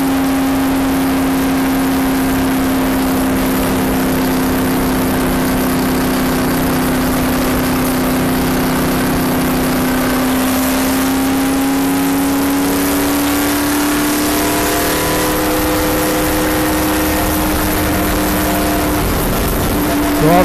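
A NASCAR stock car engine, rev-limited to 5,000 RPM, drones loud and steady at speed close up, with its pitch holding level and then shifting slightly later on.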